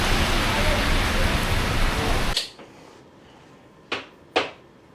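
Rain pours down as a dense, loud, steady hiss for about two seconds, then cuts off abruptly into quiet, broken by two sharp knocks.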